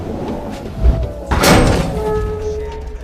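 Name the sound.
thrown shoe landing on the ground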